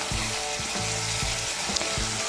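Thick yogurt going into hot oil with frying mustard, poppy seed and green chilli for a Bengali katla fish curry, giving a steady sizzle under a low, repeating rhythmic thumping of stirring.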